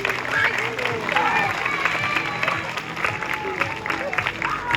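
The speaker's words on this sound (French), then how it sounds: "Et je pense qu'on peut applaudir Nora pour sa petite démonstration." Audience at a zoo sea lion show in Plaisance-du-Touch applauding, a dense continuous patter of many hands clapping with scattered voices mixed in.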